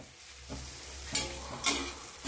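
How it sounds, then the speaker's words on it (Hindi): Roasted masala fries in a pan ready for kabuli chickpeas, giving a broad, hissing sizzle that swells in a few bright bursts as the contents are stirred, close by and without talk. "ये हमारा मसाला भून गया, अब जो है हम इसमें छोला डाल देते हैं।"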